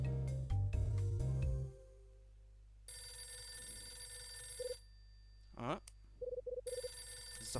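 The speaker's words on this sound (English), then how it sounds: "It's the phone." Telephone ringing in the video game Hotel Dusk Room 215, a bright electronic ring pattern in repeated short bursts over a steady game hum, following some brief talk at the start.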